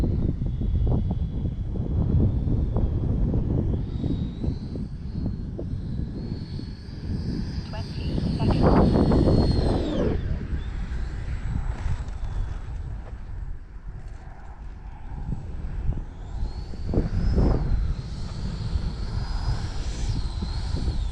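FMS Futura V3 RC jet flying overhead with a loud howling roar that swells and fades as it makes passes, whooshing up to peaks and dropping away, with someone talking through it.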